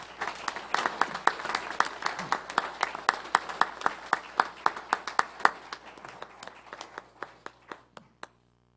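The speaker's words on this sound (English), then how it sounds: "give them a huge sound of applause" Audience at a county commissioners' meeting claps for volunteers, a lively burst of applause with sharp individual claps that grows strong, then thins out and fades to a few scattered hand claps before stopping.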